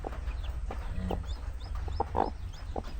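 A hen clucks repeatedly in short, close bursts while her chicks peep in thin, high chirps around her, with a low background hum.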